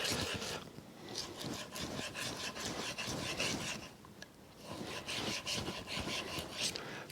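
A Japanese tool steel knife is drawn across a sharpening stone in repeated rasping, scraping strokes of uneven rhythm, close and clear, with no talk.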